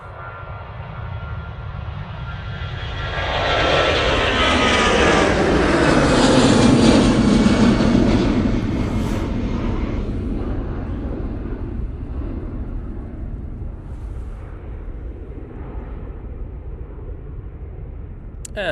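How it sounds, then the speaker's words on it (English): An EasyJet airliner takes off at Manchester Airport in gusty wind, its jet roar swelling to a loud peak midway, then slowly receding into a fainter distant rumble. "we can actually go onto this EasyJet now"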